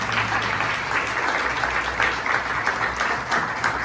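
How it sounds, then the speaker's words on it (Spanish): A church congregation applauds, dense continuous clapping from many people filling the room at a steady level from start to finish, with no speech over it. "Un aplauso al Señor por ellos."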